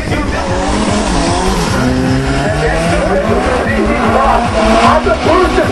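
A BMW drag car skids sideways at a drag racing event, its tires squealing loudly over a roaring engine in a continuous, harsh wash of noise close to the track.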